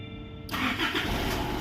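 A car engine cranks and catches at close range, starting abruptly after a brief quiet moment and then running steadily and loudly on its own.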